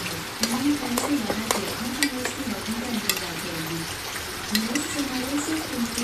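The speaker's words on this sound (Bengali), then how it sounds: "আমার মেয়ের বিরিয়ানিটা একটু আমি নাড়া দিয়ে দিই" A spoon scrapes and stirs biryani in a cooking pot with repeated clinks, over a soft background sizzle. Someone talks throughout.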